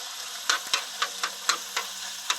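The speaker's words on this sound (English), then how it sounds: "So now you can see that tomato paste cooking off." Tomato paste and tomatoes cook in a pan with a steady sizzle, while a utensil scrapes and stirs in regular strokes about every quarter second.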